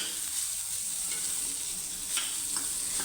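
Onion and bitter gourd are sautéed in oil, giving a steady, fairly soft sizzle with a few faint scrapes of stirring and no talk.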